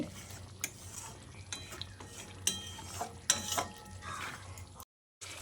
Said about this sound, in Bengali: তারপর আবারও একবার ভালো করে নেড়েচেড়ে মিশিয়ে নিয়ে